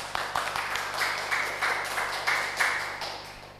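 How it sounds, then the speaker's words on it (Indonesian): A small group applauds together in a studio setting, a steady patter of hand claps with a few sharper individual claps standing out, moderately close and continuous throughout. "Tepuk tangan balik yuk. Tepuk tangan."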